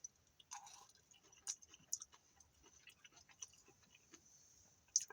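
Someone chews crunchy, undercooked rice close to the microphone, giving quiet irregular crunches and clicks with a few louder bites scattered through the moment.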